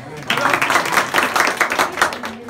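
Brief burst of group clapping from a room full of students at an intermediate college, dense and steady, rising quickly and holding for a couple of seconds.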